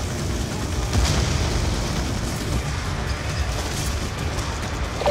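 Sustained flamethrower roar and minigun fire from a Call of Duty Black Ops II battle, a dense continuous rumbling barrage with booming bursts, loud and close throughout.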